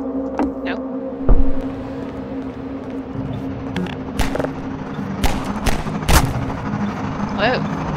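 Gunfire in Half-Life 2: several sharp, loud shots crack out in irregular bursts over a low steady hum, with a heavy thump early on.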